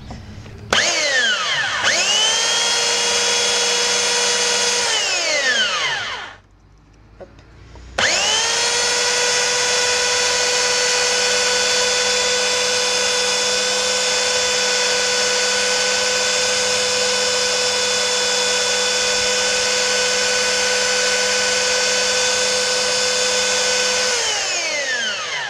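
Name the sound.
power sander sanding wood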